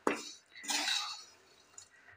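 Metal utensil scraping and clinking against a wok while coconut sweet made of two ingredients is stirred, with a sharp knock at the start and a brighter scrape in the middle, fading to quieter stirring.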